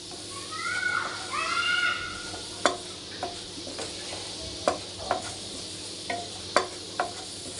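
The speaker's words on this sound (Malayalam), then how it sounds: "നമുക്കൊന്ന് ഇളക്കി കൊടുക്കാം. കരിഞ്ഞു പോകാതെ നോക്കണം." Spice powders frying and being stirred in a pan while a curry is cooked, with a soft sizzle under sharp, irregular scrapes and taps of the spoon against the pan; a brief voice is heard near the start.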